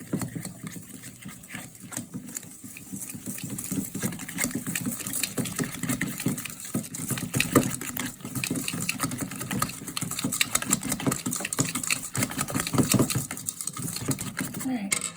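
Electric hand mixer whipping duck egg whites in a bowl, a continuous buzzing whir with rattling beaters that holds steady for the whole stretch, close and fairly loud.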